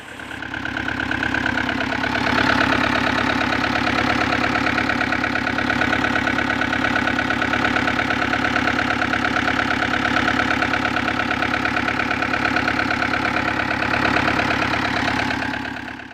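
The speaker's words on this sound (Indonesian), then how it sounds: "itu tadi videonya contoh mesin yang overhead yang terlalu panas berlebihan mengakibatkan mesin tidak optimal dalam beroperasi" An overheating engine idles steadily, a close, loud, even mechanical drone with a fast regular pulse that holds unchanged throughout.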